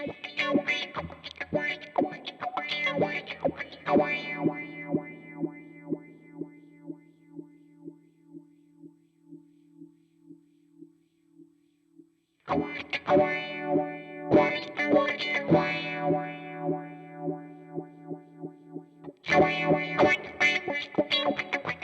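Electric guitar run through the Sonicake Matribox multi-effects FX block gives a distorted, sweeping filter-like effect: strummed chord bursts, a long sustained decaying chord, then more rhythmic strums, with no talking.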